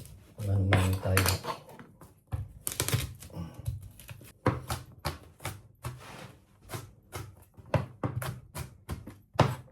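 Garlic is crushed in the kitchen while cooking chicken liver and gizzard adobo, with a rapid series of sharp, close knocks and clacks against a hard surface, at first bunched together and then settling into a steady, even rhythm.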